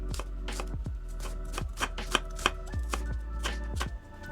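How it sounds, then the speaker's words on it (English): A knife chops an onion on a cutting board, a quick, irregular run of close, crisp taps that goes on for several seconds. "I'm gonna chop the onion up."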